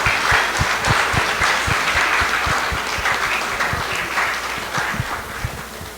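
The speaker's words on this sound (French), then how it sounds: "Mais je vous demande d'applaudir." Audience applause for a lecturer at a Toussaint Louverture commemoration in the Dominican Republic, a hall full of steady clapping with a few distinct near claps standing out over the crowd.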